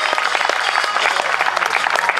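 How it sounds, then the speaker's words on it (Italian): A crowd at a fashion night event applauds the winning couple, with dense continuous clapping at close range for the whole stretch. "fate un applauso alla coppia che ha vinto"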